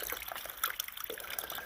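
A mountain spring trickles right beside a hiking trail in the Smoky Mountains, a faint, continuous watery babble with small splashes, no voices.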